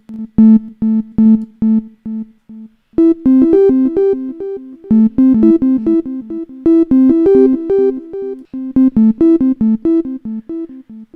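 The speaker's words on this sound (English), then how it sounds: "after that, on the bottom left-hand corner, we got a typical delay" Drip plugin's delay on a plucky synth: a steady run of short repeated notes, then a busier melodic line whose echoes overlap and trail each note in a bouncing rhythm, clear and upfront with no talk.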